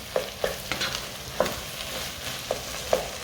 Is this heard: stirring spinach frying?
yes